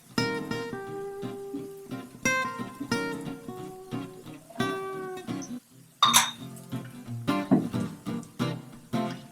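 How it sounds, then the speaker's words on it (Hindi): Wok set on a gas stove burner with oil poured in, a scatter of sharp metallic clinks and clanks of cookware, close and isolated, with brief pauses between knocks and one brighter scraping burst. "इसके लिए हम दूसरे चूल्हे में कढ़ाई रखेंगे, गैस ऑन करेंगे, इसमें थोड़ा सा ऑयल डालेंगे"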